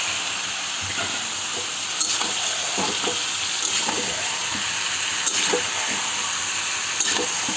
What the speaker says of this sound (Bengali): তো মাংসটাকে আমি নাড়াচাড়া করে কিছুক্ষণ পরে আলুগুলো দিয়ে দিচ্ছি।